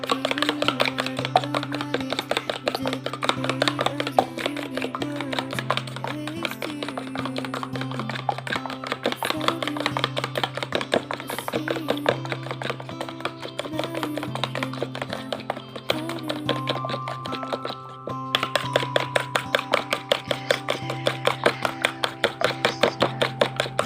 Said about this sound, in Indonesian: kita mengocok telur ini